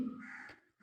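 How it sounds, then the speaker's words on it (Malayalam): A single drawn-out crow caw rings out near the bank of a flowing river, fairly clear and close, fading into quiet at the end. "കേട്ടോ ഒരു കാക്ക കരയുന്നത്."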